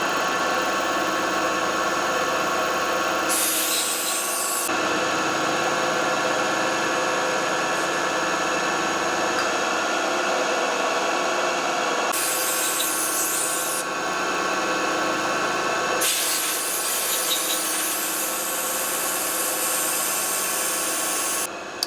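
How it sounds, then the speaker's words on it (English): CNC mill cutting aluminum with a 3/8-inch three-flute end mill: a loud, steady, dense cutting roar with a constant tonal whine, broken twice by short bursts of sprayed coolant or air hiss. "Using I believe it was a 3-flute 3/8 end mill optimized for aluminum."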